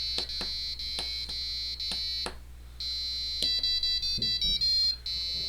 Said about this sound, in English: If we get a correct guess, we get the Jeopardy sound going as the timer's going.